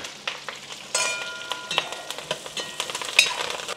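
Small shallots, green chillies and curry leaves fry in oil in a pan, making a close, crackly sizzle broken by irregular stirring scrapes and clinks, with no talking.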